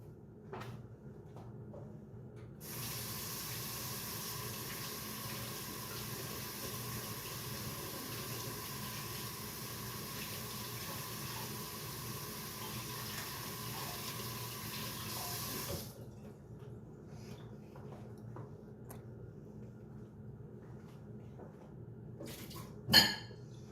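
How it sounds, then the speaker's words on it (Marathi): A kitchen tap runs steadily for roughly thirteen seconds while hands are washed beneath it, the hiss of the water starting abruptly and cutting off cleanly, followed by a few small knocks and one sharp clack near the end. "मी जरा हात धुवून येते."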